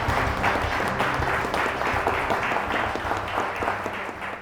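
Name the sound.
applause for the winner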